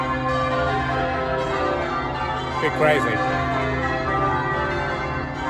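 Church bells ring in Shrewsbury, a steady layered peal of sustained tones that runs through the whole stretch, with a voice speaking briefly partway through.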